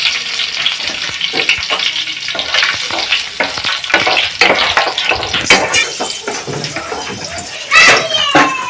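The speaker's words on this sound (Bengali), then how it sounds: "রসুনটা আমি হালকা ব্রাউন ব্রাউন করে ভেজে নেবো" Loud, steady sizzling of garlic frying in hot oil, with close scraping and stirring throughout.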